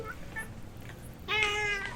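A cat meows loudly and close by, a drawn-out call over a dim room murmur, while someone shoos it out of a box.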